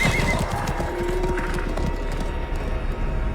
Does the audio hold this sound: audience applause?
no